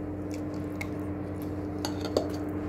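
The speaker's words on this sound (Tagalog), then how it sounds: "Samahan niyo akong kumain." Cutlery taps and scrapes lightly against plates during a home meal, with a few scattered soft clinks over a steady low background hum and no talking.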